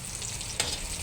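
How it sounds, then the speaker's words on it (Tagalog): Marinated sliced chicken frying in hot oil, a steady close crackling sizzle throughout with a brief sharper burst midway. "Prituhin na natin guys yung ating marinate na chicken."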